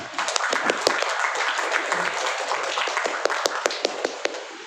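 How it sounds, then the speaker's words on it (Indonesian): A seated audience at a scholarship talk claps steadily in a dense wash, with sharper individual claps standing out near the end before it fades. "Tepuk tangan dulu untuk kalian semua."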